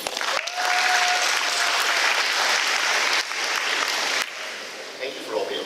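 A crowd applauding at a school awards ceremony: loud, dense, sustained clapping that eases briefly partway through and then carries on, with a voice speaking faintly under it.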